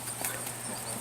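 Hooves of a horse in training clip-clop on the ground, a few soft, evenly spaced knocks over a steady hiss of background noise.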